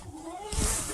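A pet cat exploring a new house gives a brief drawn-out meow, followed by a louder burst of rustling movement, all within about a second.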